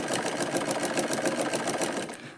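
A sewing machine stitches a katori blouse in a fast, even mechanical rattle. The sound is close and steady and eases off at the very end.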